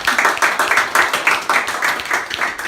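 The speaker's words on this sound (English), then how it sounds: "Applause, applause, applause." Studio audience applause at a televised prom-queen crowning: steady, fairly close clapping that pulses in quick, even bursts throughout the short stretch.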